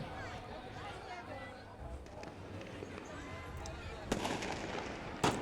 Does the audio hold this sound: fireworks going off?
yes